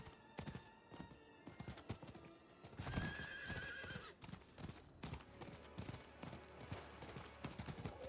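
A horse in a video game neighs once in a loud whinny, surrounded by steady rapid clip-clop of hooves, fairly close, with little talk.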